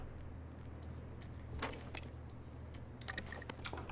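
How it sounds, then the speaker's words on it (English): A computer keyboard clicks in short, scattered bursts of typing during a PUBG session, faint against a low steady hum. "you're gonna hear my keyboard a lot more than before"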